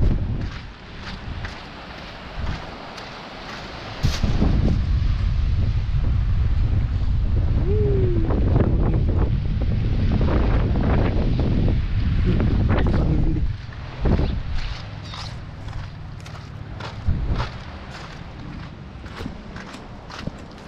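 Wind buffets the microphone at a sandy tourist beach with sea waves, loud rumbling gusts surging and easing through twenty seconds, with a faint voice briefly heard.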